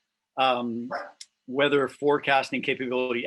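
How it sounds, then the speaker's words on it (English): A pet dog barks and yips in the background while a person gives a talk at a smart-cities tech showcase, the barks mixed in with near, steady speech. "Sorry about my dog in the background."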